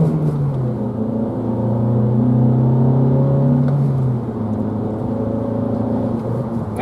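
A VW Passat B6 with a 1.6 FSI naturally aspirated petrol engine is revved hard while driving, a loud steady engine drone rising in pitch, then easing slightly before holding on.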